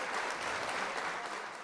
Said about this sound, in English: So clap it up for y'all.